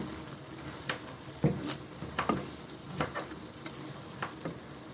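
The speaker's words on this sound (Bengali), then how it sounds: "এটাকে একটু নাড়া দিয়ে আমি এটাকে মিশিয়ে নেব" Taro stolons and shrimp are stirred in a frying pan, with scattered scraping strokes over a soft, steady sizzle. The sound is quiet and close.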